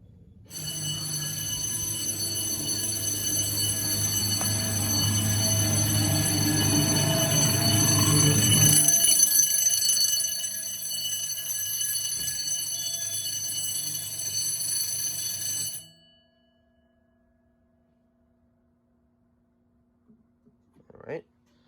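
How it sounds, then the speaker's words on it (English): A 10-inch fire alarm bell with a loose mechanism rings continuously and loudly during a fire system test, then cuts off abruptly. A short faint sound follows after a long silence. "the 10-inch bell has problems like that sometimes"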